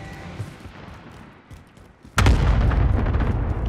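An air strike in Call of Duty: Warzone: after quiet game ambience, a sudden loud explosion bursts in and rolls into a heavy, sustained rumble of continuing blasts.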